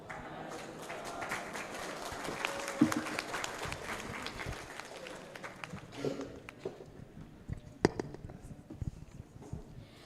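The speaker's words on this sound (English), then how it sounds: "give one more applause for her" Audience at an international school conference applauding after a student's presentation: dense, rapid clapping from a sizeable crowd that starts strong, thins out unevenly toward the end and fades into sparse claps and room noise.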